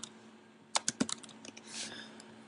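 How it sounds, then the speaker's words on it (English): Text is typed on a computer keyboard, a short burst of several distinct key clicks spread irregularly over a couple of seconds, close and fairly quiet against a faint steady hum. "So I'm gonna go and type in some text."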